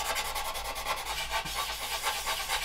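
Fine sanding stick rubbing across a plastic part of a 1/2500 scale AMT USS Enterprise NCC-1701-E model kit, a close, steady scratchy back-and-forth rasp in quick repeated strokes throughout.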